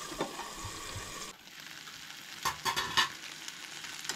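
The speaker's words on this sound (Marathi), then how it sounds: "आनी चड टायम लागना हो फ्लावर फ्राय जावपाक" Cauliflower florets fry in a pan with a soft, fairly faint sizzle. A few sharper clatters of stirring or turning come partway through, and no one speaks.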